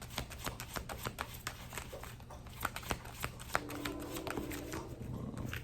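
Tarot cards shuffled by hand until a couple slip out, soft rhythmic flicks and taps at close range, fairly quiet, with a faint low hum and a brief tonal sound near the end.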